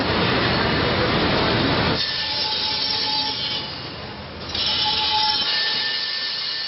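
Factory noise in a Picardy foundry: loud, steady mechanical roar with ratcheting clatter and faint tonal squeals, dropping briefly to a lower rumble before swelling again, no voices.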